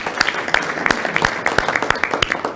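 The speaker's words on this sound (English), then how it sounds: "let's give them a round of applause" An audience gives a round of applause after a timed group exercise at a leadership training session, a brisk, dense clatter of clapping hands lasting a few seconds at steady loudness.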